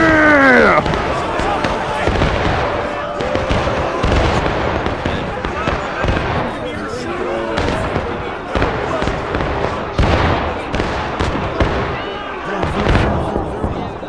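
Musket volleys crack and boom across a chaotic American Civil War battlefield in War of Rights, a dense run of shots, some near and loud, others farther off, with shouting voices mixed in throughout.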